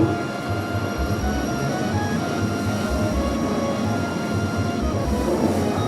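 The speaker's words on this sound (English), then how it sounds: "now going back into the transit train station" A transit train runs at Gatwick Airport station, giving a steady loud rumble with rhythmic low thumps and hum, no voices.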